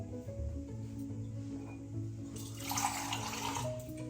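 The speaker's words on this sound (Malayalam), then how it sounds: "ഇതിലേക്ക് ആവശ്യത്തിന് വെള്ളം ഒഴിച്ചു കൊടുക്കാം." Water pours into a pot of cowpeas, a soft continuous splashing stream that swells louder toward the end, with a low kitchen hum beneath.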